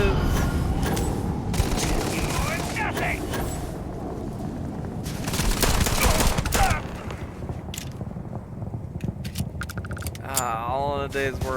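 Pistol gunfire in the sci-fi game Starfield, a string of sharp reports in bursts over a busy game mix of effects and music, with a voice talking at times.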